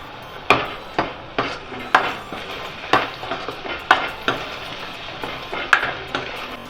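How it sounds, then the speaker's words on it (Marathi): Spice paste with coriander, asafoetida, turmeric and Kashmiri chilli is stirred and fried in oil for Nagpuri tarri poha, with repeated clanks of a spoon against the pan over a low sizzle. "तेल सुटेपर्यंत आपल्याला हे परतून घ्यायचं आहे"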